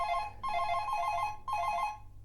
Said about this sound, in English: Let's pick the phone up.